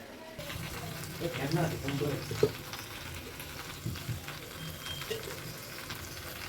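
Green chilli goes into raw mustard oil in a wok, giving a soft sizzle and brief stirring scrapes near the start before settling into a low, steady fry.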